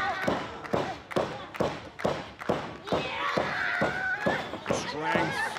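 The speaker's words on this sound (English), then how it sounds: "Ano takes a hard bump there, the leg hooked up." A women's pro wrestling match, where a wrestler takes a hard bump on the ring, heavy repeated thuds and slaps of bodies on the mat in a rhythmic series, under a commentator and crowd noise.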